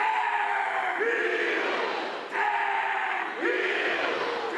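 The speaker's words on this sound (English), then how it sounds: "Crowd getting involved early on." A college wrestling crowd at a North Carolina Tar Heels home dual against NC State roars and yells in a sustained, loud wave, with voices shouting over a dense arena din.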